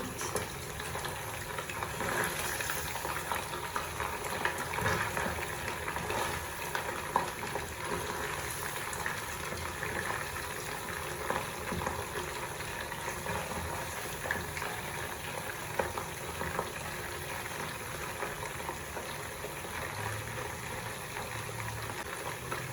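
Sticky honey pork cooking in a pan over reduced heat, giving a steady, moderate sizzle and bubbling that goes on unbroken, with no voices.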